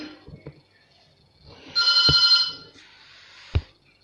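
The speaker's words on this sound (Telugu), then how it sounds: "ఫోన్ కాల్ వచ్చింది" A telephone rings once in a bright electronic burst, flanked by a few soft clicks and knocks, with a sharp thump near the end.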